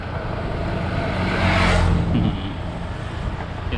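Heavy road traffic on a congested route, a continuous roar of car engines with one vehicle swelling louder as it passes close by midway before the steady rumble settles back.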